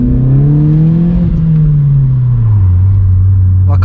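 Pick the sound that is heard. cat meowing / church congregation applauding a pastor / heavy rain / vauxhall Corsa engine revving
vauxhall Corsa engine revving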